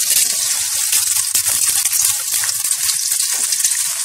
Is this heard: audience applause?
no